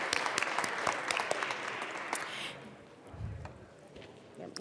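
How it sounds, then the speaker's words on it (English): Applause in the Colorado House legislative chamber, dense crowd clapping for honored college guests that fades out after about two seconds, followed by low room murmur. "Please give them a warm round of applause,"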